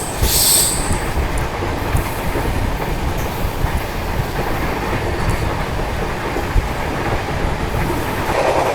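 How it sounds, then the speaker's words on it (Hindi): The Grand Trunk Express rolls on rails through a horseshoe curve just after leaving Betul railway station, giving a loud, continuous rumble of wheels with faint squealing and rail clatter throughout, without voices. "चलिए निकल गई अपनी GT express Betul railway station से दोस्तों।"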